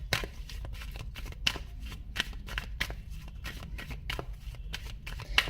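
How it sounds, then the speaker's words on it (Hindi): Tarot cards being shuffled by hand in repeated quick riffling bursts, close and fairly soft, with no talking. "तो मैं जब शफल कर रही थी कार्ड्स"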